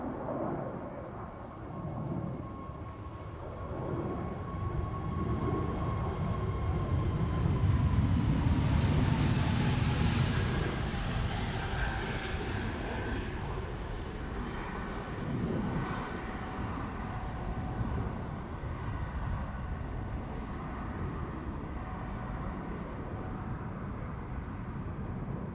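A KLM Airbus A321neo, brand new, departing Amsterdam Schiphol, its engine roar building from a distant rumble to a loud peak and then easing away into a steady fading drone.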